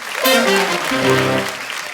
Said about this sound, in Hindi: इनके लिए जोरदार तालियां।